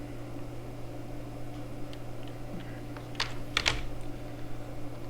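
Faint keyboard typing while writing a Linux shell script, with a few short clusters of keystrokes over a steady hum of background noise.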